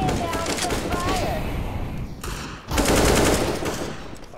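Rapid automatic gunfire in a first-person shooter video game, dense and loud bursts that briefly pause and then resume, with a voice faintly under the shots.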